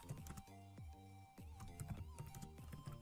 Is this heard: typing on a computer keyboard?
yes